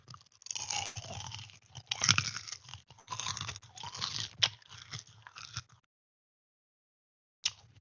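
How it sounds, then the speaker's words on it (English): Crisp bacon being crunched and chewed close to the mouth, a dense run of loud crackly bites and chews for several seconds, then silence before one last faint crunch. "check out this ASMR on this bacon"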